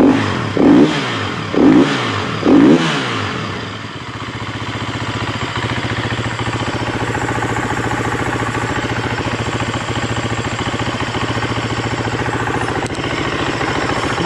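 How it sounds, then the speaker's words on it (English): Husqvarna FE350S dirt bike engine just after a top end rebuild: three quick throttle blips, then a steady, loud, close idle that chugs evenly for the rest of the clip. "Motor sounds good though."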